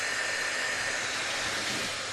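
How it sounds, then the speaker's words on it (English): A hair dryer blowing at a frozen outdoor water tap to thaw it, a steady, loud, close whooshing hiss that holds without change. "thaw it out with a hairdryer"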